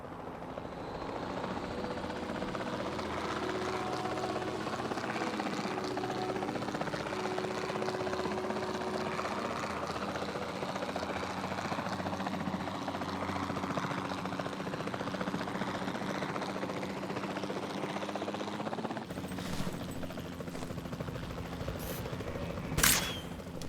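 A helicopter in the video game Jurassic World Evolution 2 drones steadily with a thrumming rotor and engine hum, loud and continuous, shifting abruptly near the end with a few sharp clicks.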